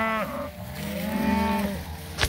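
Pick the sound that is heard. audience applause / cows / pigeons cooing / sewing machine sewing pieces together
cows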